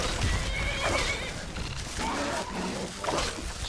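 A horse neighs and whinnies in distress while being attacked in a video game, with loud, strained cries repeating over a busy, rough background of game noise.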